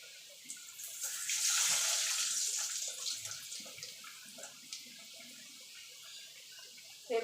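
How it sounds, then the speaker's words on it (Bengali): Hing kachori dropping into hot oil for deep-frying, giving a steady bright frying hiss that swells early and then settles, with small pops and no talk. "এবার একটা করে দেবো আর ভেজে ভেজে নেবো।"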